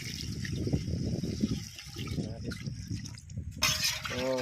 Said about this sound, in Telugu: ఇప్పుడు ఎసరులో నీళ్ళు వేసేసామండి